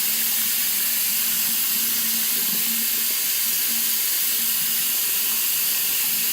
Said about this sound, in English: So I'll put the water on.